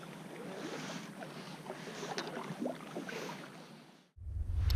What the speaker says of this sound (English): I'm gonna paddle around first and get used to it.